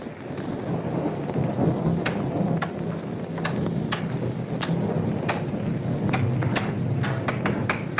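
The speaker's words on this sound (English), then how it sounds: "That's the thunderstorm." A thunderstorm roars with steady heavy rain, and repeated sharp cracks of thunder or static snap through it at irregular intervals, loud and continuous with no talking.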